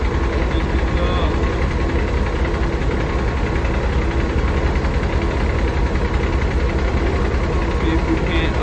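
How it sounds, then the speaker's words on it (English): The diesel engine of a 2018 Peterbilt truck with an aftertreatment fault idles outdoors, a steady, dense, close rumble running unbroken with no break in level. "That's why I got this engine running."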